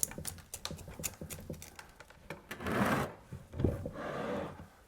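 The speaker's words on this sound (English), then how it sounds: "I'm just going to tease the roots, ease the roots, and put it in a much bigger pot." Roots of a potted maple tree being teased apart by hand during repotting, giving close, dry crackling and rustling with quick clicky patter, then two longer scraping rubs of soil and roots.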